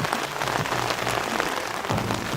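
Steady rain and gusting wind beat on a tent fly at a camp on Mount St. Helens, a dense continuous patter with low rumbling gusts swelling and fading, close and enveloping with no voices.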